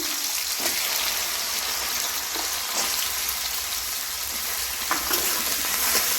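Potatoes and taro fry in hot oil in a pan for a village banana-flower dish, giving a steady close sizzle with soft scraping stirs now and then throughout.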